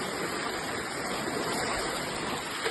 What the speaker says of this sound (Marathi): इथे बघाल तर पाण्याचा स्रोत बघा किती फास्ट चाललेला आहे